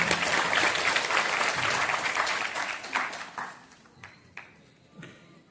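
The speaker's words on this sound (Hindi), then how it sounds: "जोरदार ताली से उनका स्वागत करें" An audience at a public gathering welcomes a speaker with loud, dense applause that fades after about three seconds, leaving a few scattered, isolated claps.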